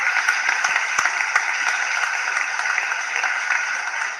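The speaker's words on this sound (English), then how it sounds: "I love the applause." An audience applauds steadily as a guest is welcomed onto a talk show stage, a dense, continuous clatter of many hands clapping at moderate loudness with no voices over it.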